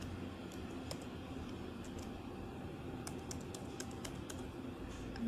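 Typing on a computer keyboard during a Mac OS installation, with a steady run of light, quick key clicks over a soft background hum.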